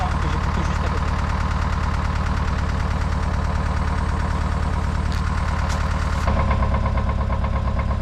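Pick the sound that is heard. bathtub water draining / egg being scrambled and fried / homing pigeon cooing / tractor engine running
tractor engine running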